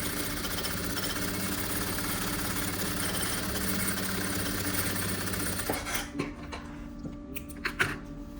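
Sewing machine stitching a boy's vest, a steady rapid mechanical chatter running continuously for several seconds, then stopping, followed by a few quiet handling clicks and thumps, close by.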